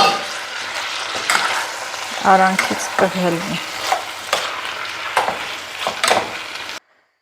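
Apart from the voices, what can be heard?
beans frying and being stirred in a pan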